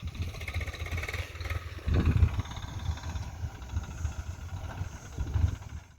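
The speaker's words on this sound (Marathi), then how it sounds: "बघा ट्रॅक्टरवर बसले त्यांना पण चालवता येतं" A low tractor engine rumbles steadily at moderate distance, with a brief louder surge midway and another near the end.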